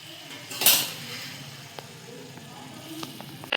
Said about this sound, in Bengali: এবার এক এক করে সব মাছগুলো আস্তে আস্তে ওর মধ্যে দিয়ে দেবো।